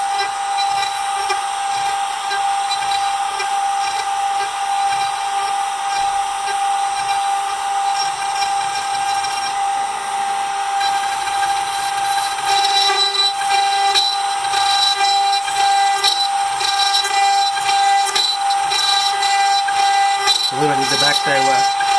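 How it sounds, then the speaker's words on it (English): A CNC machine drilling holes in a guitar neck for a Red Special build, a steady high-pitched whine of the spindle with a constant tone, getting rougher and noisier as the bit cuts in partway through, close by. "Doing the holes on this side, so this should give me a nice shaped hole."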